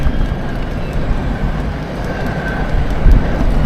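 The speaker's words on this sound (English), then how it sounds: "Got a train heading into Blackpool North there." A train passing near Blackpool North in an industrial area, heard as a steady loud low rumble and rolling rail noise, with no talking over it.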